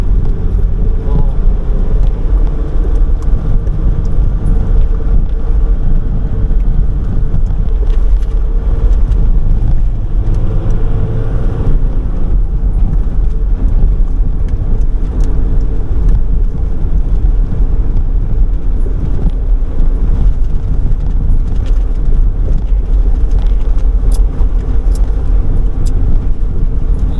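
Road traffic rumbles along Pagbilao Bypass Road in a steady, loud low drone, with vehicles passing close by and no talk over it.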